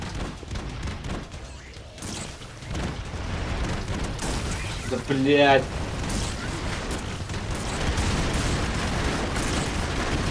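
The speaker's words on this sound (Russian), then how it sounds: "тут все взрывается" Gunfire and explosions from the run-and-gun video game Broforce, played in two-player co-op on hard difficulty, with dense blasts and a brief loud burst midway, under continuous talking.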